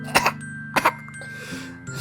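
A video game character in a Doki Doki Literature Club mod coughs close up, two short double coughs about half a second apart over a faint steady musical hum.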